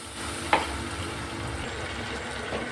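Curry frying in a pan with a small splash of hot water poured in, a steady sizzle throughout with one brief sharp hiss near the start, no voices.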